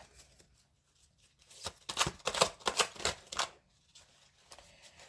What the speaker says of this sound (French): je vais tirer des cartes à la coupe